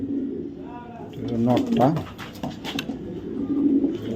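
Racing pigeons kept as a breeding pair coo in low, rolling calls, with someone talking over and between them close by.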